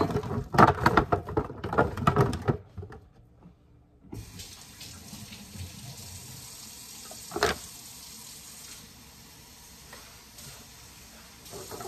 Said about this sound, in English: And then what I'm going to do is add a little bit of water to the pan.